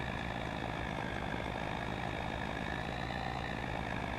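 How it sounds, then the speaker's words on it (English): Truck engine straining uphill in a farming game, a steady low droning rumble held at constant loudness throughout with no voices. "Come on, truck, pull!"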